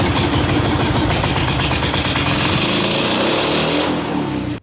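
A 7.5 horsepower Gamefisher outboard boat motor runs loud and close with a rapid, rattling putter that smooths out before abruptly cutting off at the end.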